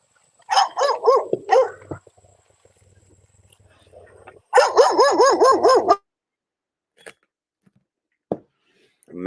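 A dog barks right up close in two loud bursts of rapid, yelping barks, several in quick succession each time, followed by a few isolated sharp clicks and knocks in an otherwise quiet space.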